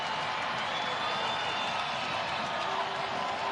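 A large sellout college basketball arena crowd roars in a steady, broad wash of cheering and noise, continuous and fairly loud throughout.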